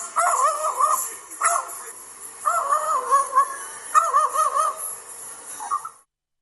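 A pet bird imitates a dog, giving a run of loud barks and yips in several bursts with short pauses between them, close and alone with no talk.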